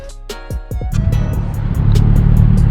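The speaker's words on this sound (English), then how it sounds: "Felicia's just driving the truck along those tomatoes as I fill them up" A truck carrying a water tank rolls slowly along rows of tomatoes, with a low, steady engine rumble that builds after a few sharp knocks and clatters at the start. It is close by and moderately loud.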